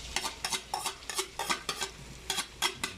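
Onions being stirred and frying in a pan, with rhythmic scraping strokes of a utensil over a soft steady sizzle, close and fairly quiet.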